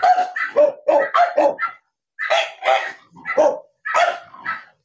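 A dog barks close and loud in two quick volleys of sharp, yappy barks, around six in the first burst and five in the second, separated by a brief silence, outside a two-storey house in Tanza, Cavite.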